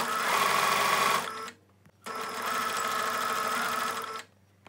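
A sewing machine stitches scrunchie fabric in two loud, steady runs, the second a little longer, split by a short pause.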